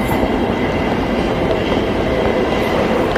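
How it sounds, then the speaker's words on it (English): A subway train in a video game rumbles past close by, a dense, continuous roar of wheels and rail noise with faint clatter, with no talking. "this is subway train"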